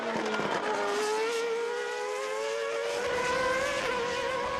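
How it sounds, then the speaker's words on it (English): Race cars peeling into the pits during a 2014 Acceleration FA1 race at Assen, the Netherlands, their engines a steady loud drone with pitch sliding downward as they slow, no talk over it. "Cars in front of him still peeling into the pits."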